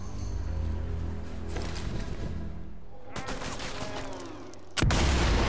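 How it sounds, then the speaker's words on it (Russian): Gunfire in Sniper Elite 4, repeated loud shots in irregular bursts with a rattling volley midway and a sharp, heavy blast near the end. "Стреляет он."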